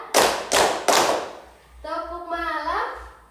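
A class plays a clapping ice-breaker game, with three sharp, evenly spaced group claps close by, followed by voices chanting in rhythm.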